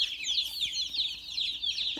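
Baby chicks on a farm chirp in a dense, constant chorus of high, rapid peeps, close and fairly loud, with light shuffling underneath.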